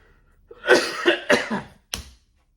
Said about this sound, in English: Sorry, 100-day cough.